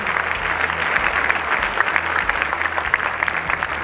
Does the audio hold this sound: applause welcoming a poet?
yes